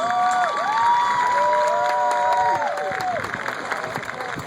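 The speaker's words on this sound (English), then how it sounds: "So please, graduates, you give a round of applause to your family members." Graduates at a Millersville University commencement applaud their families, a large crowd clapping and cheering with whoops and shouts rising above the sustained ovation, which eases slightly toward the end.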